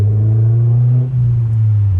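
Honda S2000 engine while driving on mountain roads, a loud, steady low drone with a brief dip in pitch like a gear change before the hum settles back in, close and alone.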